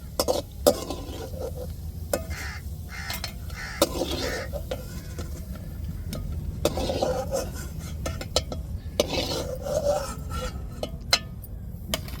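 Cashew nuts fry in ghee for a beetroot sweet, with soft sizzling under repeated scraping and stirring of a spoon against the pan, punctuated by a few sharp utensil clinks, close and moderately loud throughout.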